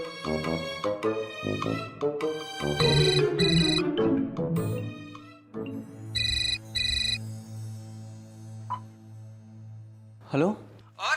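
A mobile phone ringtone plays as a bright melodic tune, with several ringing bursts and pauses, while a voice speaks over parts of it and music sounds in the background.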